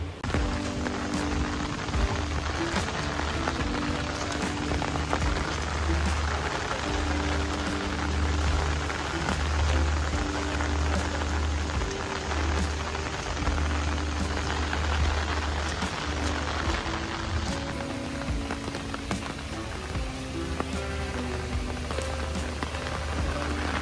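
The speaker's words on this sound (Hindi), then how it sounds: "आज जम के पानी बरसा है, बहुत दिनों बाद दिल्ली में ऐसी बारिश देखने को मिली है।" Heavy rain pours down steadily in Sunder Nursery, Delhi, a dense and unbroken hiss of drops striking surfaces close by, with no voices or other sounds standing out above it.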